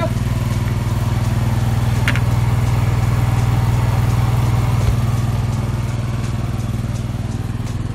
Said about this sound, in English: Oh, generator. Let me show you that.